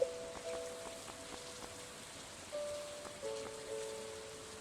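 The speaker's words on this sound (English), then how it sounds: "it's raining, so I don't need to water my crops today" Soft steady rain from Stardew Valley on PC, a faint continuous patter under light game chimes and tones, with no voices.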